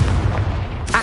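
A Confringo blasting spell explodes in the video game Hogwarts Legacy with a short, loud, booming burst. A second sharp crack follows right at the end.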